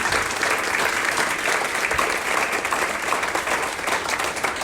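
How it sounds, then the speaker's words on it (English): A breakfast-panel audience in Christchurch applauds the panellists, a steady wash of many hands clapping in a room, continuous and fairly loud. "massive round of applause, please, for our panellists"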